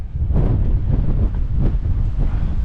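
Strong wind buffets the microphone on an open hilltop near Darwen Tower, a continuous loud low roar with gusty surges and no voices.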